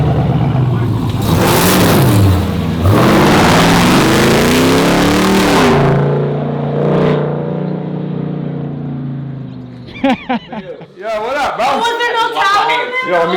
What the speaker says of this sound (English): It's a Hemi Hellcat engine that's been modified.